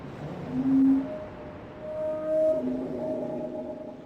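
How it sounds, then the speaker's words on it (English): A whale call sounds in the Riven puzzle game: long, low, moaning tonal calls that rise and fall, two swells over a few seconds, alone with no talking, in a hollow, echoing space. "That sounds like a whale"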